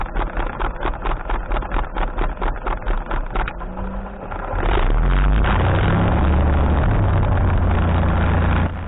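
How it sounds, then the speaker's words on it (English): Light aircraft engine starting after fuel priming: a few seconds of rhythmic cranking chugs, then the engine catches and settles into a loud, steady running drone close by. "Once the priming is complete, I start the engine."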